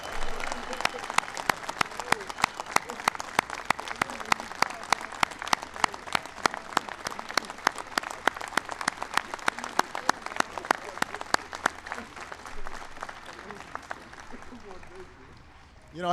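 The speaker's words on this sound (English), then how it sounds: "Let's give them all a big round of applause." An audience at a White House ceremony honoring the Super Bowl XLVI champion New York Giants applauds wounded warriors, sustained crowd clapping with sharp individual claps standing out, lasting many seconds before it tapers off.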